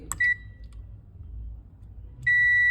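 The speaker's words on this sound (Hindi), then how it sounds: "बजर मोड पर हम अपना ये रखेंगे मल्टीमीटर" A digital multimeter set to continuity buzzer mode while probing pins on an SMPS circuit board, giving two short, loud, high electronic beeps about two seconds apart with quiet background hum between them.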